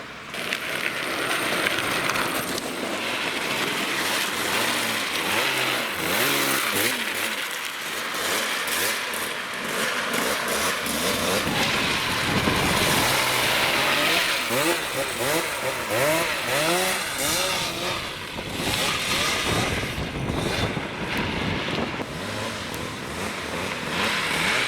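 Someone's car engine revving hard with its throttle stuck open, a loud, continuous roar that rises and falls in pitch throughout, with people talking over it.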